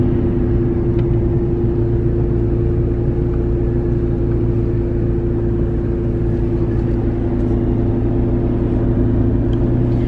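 A salvage McLaren car rolls in through the entrance gates, its engine a steady, loud, close rumble with a constant low drone and no talking.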